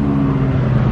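An Aston Martin DB11 rolling past at a supercar weekend, a steady, loud engine drone with deep low rumble lasting the whole brief moment, no voices.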